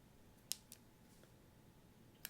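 Small scissors trimming eyebrows: two sharp, crisp snips close to the microphone, then a faint one and a final snip after a short pause, over quiet room tone.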